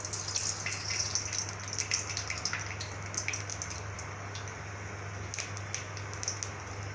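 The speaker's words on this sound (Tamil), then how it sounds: "கடுகு நல்லா பொரிஞ்சு வரட்டும்." Mustard seeds splutter in hot oil in a wide pan for a raw banana poriyal: quiet, scattered sharp pops and crackles over a low steady hum.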